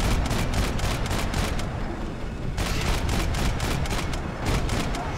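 Dense, continuous volley of gunfire from the video game Max Payne 3, loud and close throughout, with a brief dip partway before the shooting resumes at full intensity.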